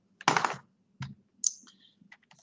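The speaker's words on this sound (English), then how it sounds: "you can see my typing" Typing on a computer keyboard: a dense burst of key clicks, then a few scattered separate taps, close and fairly loud, with no talking.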